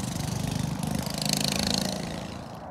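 A small go-kart engine runs steadily at night, a loud, buzzing, mid-pitched drone with a rhythmic throb that swells slightly midway and holds near and constant throughout, with no voices.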